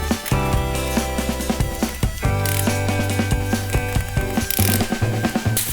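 A ratchet loosening a K&N oil filter on a Harley Iron 883 Sportster, steady rapid metallic clicking heard up close and loud, mixed with bright ringing tonal sounds.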